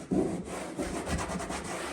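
A hand rubs across wallpaper on a wall, a brief close scuffing and brushing friction lasting about two seconds.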